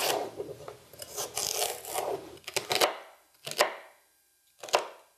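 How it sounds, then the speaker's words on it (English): Celery being chopped on a board, a close burst of quick knife strikes followed by a few isolated chops separated by short pauses, with no talking. "And I'll chop up the celery."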